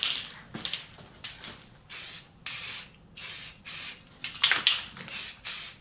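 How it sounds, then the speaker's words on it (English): An aerosol can of flat khaki paint sprays onto an AR-10 rifle in a series of short hissing bursts, each lasting about half a second, close and fairly loud, with brief quiet gaps between passes. "Don't spray too close to it."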